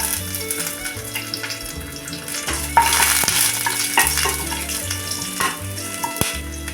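Curry leaves and crushed garlic fry in hot oil for a kovakkai (ivy gourd) gravy, a loud steady sizzle with crackling bursts and occasional stirring clatter, close up with no talking.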